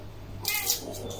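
A house cat gives a single short meow in a busy family home, clear and close, following a brief stretch of low room hum.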